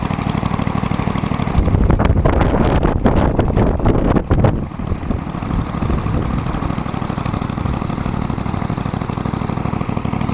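A powered paraglider trike's 4-stroke engine idles with a steady, quiet exhaust drone, heavy wind buffeting the microphone near the start, then a constant low hum.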